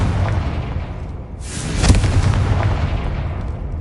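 A Confringo blasting spell explodes in Hogwarts Legacy, a single loud fiery burst that swells near the middle and rumbles on against steady game ambience.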